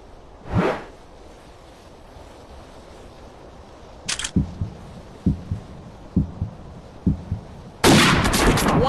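In the mobile game Hunting Sniper, a soft whoosh and a sharp click are followed by slow, thudding heartbeat pulses. A loud, sudden sniper rifle shot bursts in at the end.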